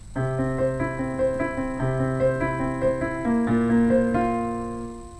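A few sustained piano chords played in sequence, moving smoothly from one harmony to the next with clear, ringing notes and no talking.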